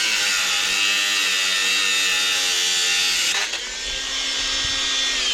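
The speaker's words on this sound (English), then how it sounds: "I've got to get my angle grinder and cut the bolts out." An angle grinder cuts through metal bolts at an allotment, a loud, close, continuous high whine that briefly dips mid-cut before resuming at full pitch.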